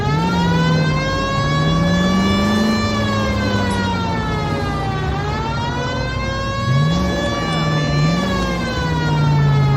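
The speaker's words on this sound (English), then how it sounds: "Hit the siren." A police car siren wails continuously in the video game L.A. Noire, loud and close, rising and falling in long slow sweeps over a steady engine rumble.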